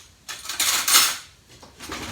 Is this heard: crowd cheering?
no